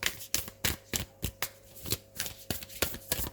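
Tarot cards riffled and shuffled in repeated quick bursts, a close, crisp rhythmic flutter of card edges with short pauses between riffles.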